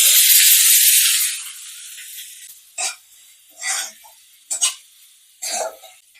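Chopped onion hits hot oil already fragrant with tempering spices for a Bengali katla fish curry. A loud, dense sizzle rushes up at once and fades within about a second, followed by several short stirring scrapes and hisses.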